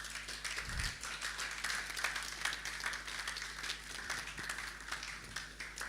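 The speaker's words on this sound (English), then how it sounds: "So please help me clap for him again." An audience at an evening innovation summit session claps faintly and steadily, a distant, thin patter of hands that continues for several seconds.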